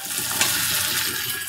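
Onions fry in a pan with Kashmiri red chilli powder, giving a steady, close hiss and sizzle that continues evenly throughout with no talking.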